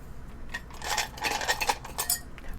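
Dice being handled and shaken, producing bright clicking and clattering bursts in a few uneven clusters, close and fairly quiet, with no voices.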